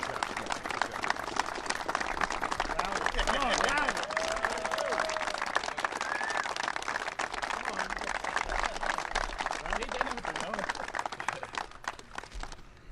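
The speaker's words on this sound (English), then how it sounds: "I appreciate the round of applause, guys." Round of applause from a crowd at a government jobs announcement event in the Navy Yard, steady and moderately loud, running the full length with cheers and voices mixed in.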